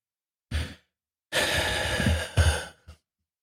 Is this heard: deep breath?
yes